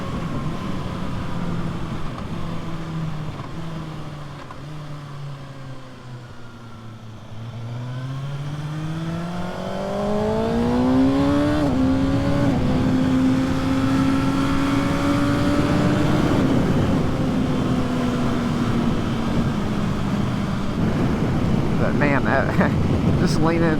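A 2024 Kawasaki ZX-6R sport bike leans through a corner. The engine's rising and falling whine swells as the bike accelerates out of the turn, and strong wind buffets the microphone throughout.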